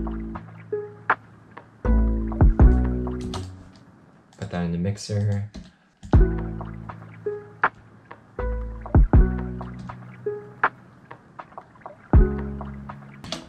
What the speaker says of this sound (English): the bass I'm going to be using is a double bass from Xtand 2